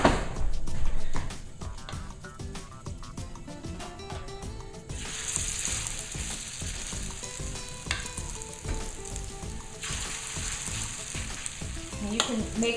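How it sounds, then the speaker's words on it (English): Potato latkes fry in oil in a heavy pan with a dense, crackling sizzle, starting loud and settling into a steady bubbling hiss with occasional scraping and handling sounds, close up and with no voices. "we're gonna put these in the oil and start to fry them"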